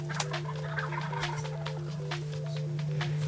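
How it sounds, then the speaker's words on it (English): Wild turkeys gobble from their roost trees at dawn during a spring hunt, repeated rattling calls at mid distance over a constant low hum in the woods. "The turkeys are still up in the trees. They've been gobbling like crazy."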